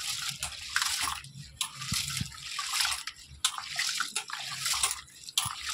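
Rice and black gram washed by hand in a bowl of water, a close, rhythmic swishing and sloshing that comes in repeated surges with grainy rustling, and no talking.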